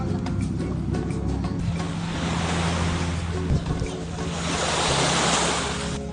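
Sea waves wash onto a beach shore in a continuous roar that swells and recedes, mixed with wind buffeting the microphone.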